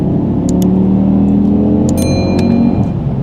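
Audi TT RS Iconic Edition with its five-cylinder engine, 400 hp and exhaust valves open, revving loudly with a deep steady rumble and rising drone, up close and continuous, with faint clicks on top.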